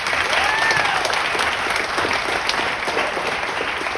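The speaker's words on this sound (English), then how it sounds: "That applause is for me, really" Steady, dense applause from a wedding reception crowd during a best man speech, loud and close, sustained evenly throughout with no pauses.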